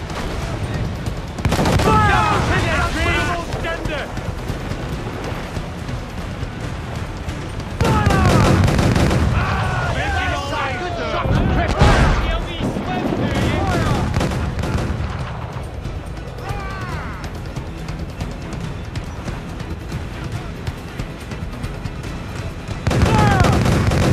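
Repeated booming cannon blasts from Assassin's Creed 4 Black Flag, loud and dense, with several bursts of volleys and rumbling explosions under occasional voices.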